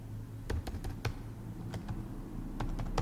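Quiet clicky typing on a computer keyboard as JavaScript code is entered, with irregular taps and short bursts over a low steady hum.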